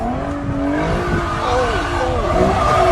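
A car does a burnout on a neighborhood road, its tires squealing in wavering, sliding tones over a steady engine roar, close and loud, with a voice heard faintly in the mix.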